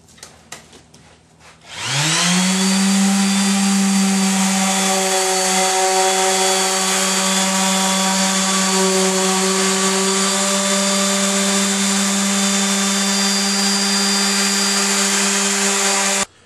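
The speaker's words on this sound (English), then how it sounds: "we switch to grit 180 and do one more pass with 180." An electric power sander runs on a cabinet door with 180 grit sandpaper, starting after a short pause and holding a loud, steady whine until it cuts off at the end.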